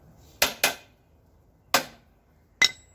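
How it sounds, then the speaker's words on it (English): Sharp metal hammer strikes on a part of a 22-inch Toro Recycler high-wheel self-propelled lawn mower: two quick hits, a pause, then another single hit and a final double hit, close and clear with quiet gaps. "Just use a little bit hammer to get inside."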